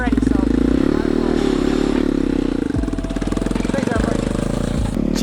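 Small motor of a Turbo Barbie mini jeep driving over bumpy grass, a steady loud buzzing drone with rattling and clatter throughout, close up, joined by a few short thumps from the rough ground.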